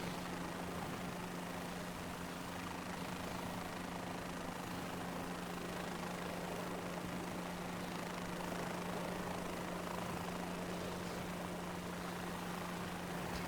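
A helicopter in Microsoft Flight Simulator comes in to land at a helipad, its engine and rotor making a loud, continuous whine and drone with a steady low hum underneath, no pauses throughout.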